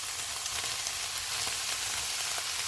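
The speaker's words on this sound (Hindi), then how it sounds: "कीमे को मैंने भून लिया, अब इसमें प्याज डालेंगे" Minced meat and onions fry in a pan with a steady, close sizzle that crackles evenly throughout, with no talking.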